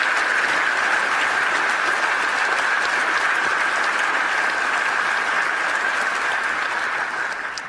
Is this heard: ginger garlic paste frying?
no